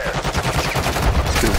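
Rapid automatic gunfire in Call of Duty MW2 DMZ, a loud, dense burst of shots rattling without pause through the whole short moment.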